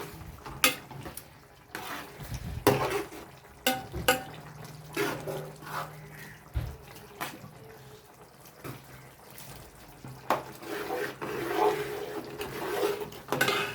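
Mango pickle being mixed with rock salt and sugar in a bowl, heard as intermittent close scraping, clinks and wet stirring knocks in uneven bursts, fairly quiet, with no talking.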